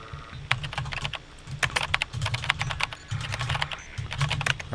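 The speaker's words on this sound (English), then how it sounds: "I can't type because the microphone's in the way of the keyboard" Rapid, uneven keystrokes on a computer keyboard clatter in bursts over a steady low hum, with short pauses between flurries of typing.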